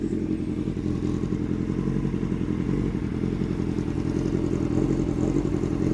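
A rusty Suzuki GSX-R motorcycle engine idles steadily throughout, a low continuous rumble with some faint clattering on top.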